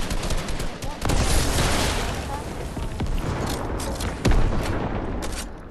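Rocket fire and explosions in the video game Fortnite as a building gets destroyed, dense bursts of gunfire-like blasts with sharp booms near 1, 3 and 4.2 seconds, loud throughout, with a voice talking over the action.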